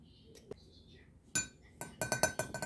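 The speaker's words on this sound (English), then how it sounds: "We're going to mix that together." Coconut milk and cornstarch stirred in a cup, a few light clinks early on, then a quick series of rapid spoon-against-cup taps near the end, with a voice talking over the start.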